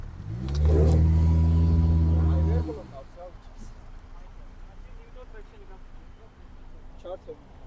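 A Jeep Renegade Trailhawk 2.4 engine revs hard off-road in one loud, sustained climb for a couple of seconds, then drops away to a low idle as voices talk in the background.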